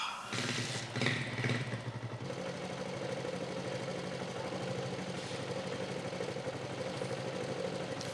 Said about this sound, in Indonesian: Sekarang hidupkan motor pada putaran rendah.